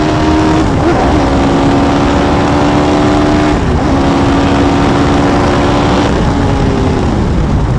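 A Hayabusa-powered race car engine screams at high revs on track, loud and sustained, with pitch climbing through gears and brief dips at shifts.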